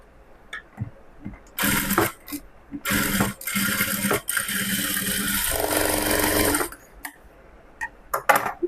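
A sewing machine stitching a cross-cut blouse runs in three bursts of rapid, whirring stitching, close and loud, separated by short pauses with handling clicks of the fabric.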